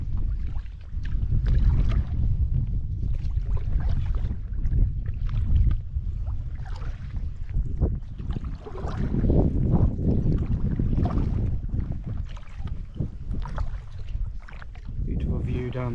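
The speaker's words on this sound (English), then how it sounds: "it's nice to paddle in close to the shore." A kayak paddled close to the shore on the Sound of Mull in a stiff breeze, with heavy wind buffeting the microphone and faint splashes of paddling under steady, loud rumbling throughout.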